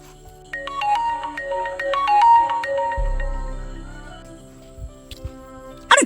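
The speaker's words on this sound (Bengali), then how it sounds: "ফোন বাজে ফোন তোলে না" A phone ringtone plays a repeating electronic melody for several seconds, then a low hum takes over before a short click at the end.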